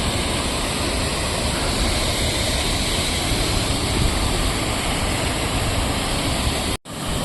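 A Himalayan waterfall on the Hampta Pass trek near Chika roars in a steady, loud, broadband rush close by, unbroken for most of the stretch before a brief drop-out near the end.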